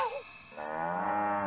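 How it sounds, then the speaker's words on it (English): A cow caught during a cattle roundup lets out a single short, close moo that rises and then holds a steady pitch. "The cow is fine?"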